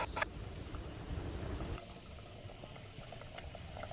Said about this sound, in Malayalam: ഇനി അടച്ച് വെച്ച് കറി വേവട്ടെ.